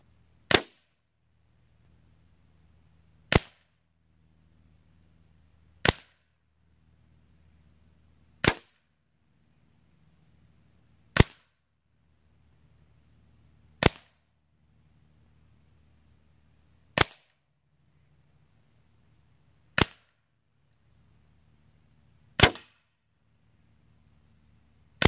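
The Hatsan Galatian Tactical semi-auto air rifle fires a string of about ten sharp, loud shots, one every two to three seconds, each a crisp crack followed by a low, faint mechanical hum between shots.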